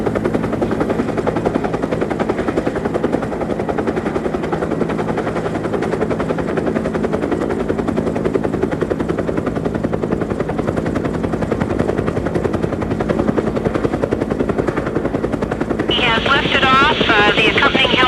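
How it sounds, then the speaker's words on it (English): A helicopter drones continuously with a thumping rotor chop, loud and steady throughout, a higher rhythmic whine rising near the end. "The accompanying helicopter right next to him"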